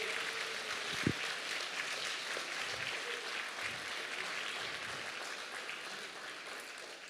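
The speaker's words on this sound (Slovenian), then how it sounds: "dajmo še enkrat mogoče kar aplavz za oba" At the Zlatirepec 2023 award ceremony, an audience gives steady, sustained applause that fills the room without a break for about seven seconds.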